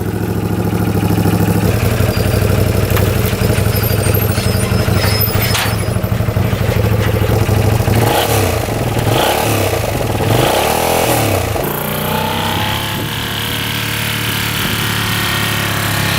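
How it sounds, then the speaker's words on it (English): A used UTV engine, smoking heavily and underpowered, runs loud and steady close by, cranking into a rough idle with revving bursts and a few uneven surges before settling. "See if she'll crank over."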